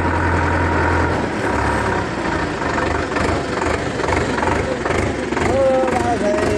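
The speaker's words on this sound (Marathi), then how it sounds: "पिंट्या ट्रॅक्टर कोणी आणला राव?" A tractor engine idles with a low, steady rumble that runs through the whole stretch. Several men chat loudly over it nearby, and a few brief higher tones rise near the end.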